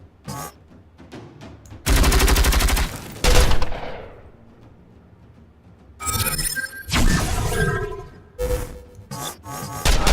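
Gunfire in the video game StarCrawlers, loud bursts of shots in several separate volleys with quieter gaps between, no talk.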